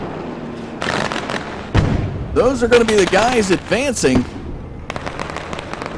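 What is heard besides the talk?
fireworks at a speedway race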